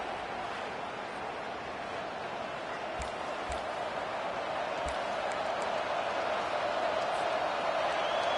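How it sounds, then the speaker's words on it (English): A steady wash of video game stadium crowd roar from a college football game fills the whole stretch, swelling slightly toward the end, with a few brief thumps and clicks poking through. "This crowd bringing the energy and noise early."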